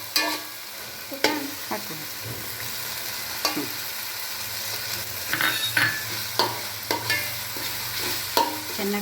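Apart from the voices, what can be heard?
mushrooms frying with green chili, mint and coriander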